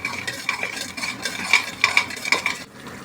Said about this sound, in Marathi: आता आपण चांगलं परतून घेऊया.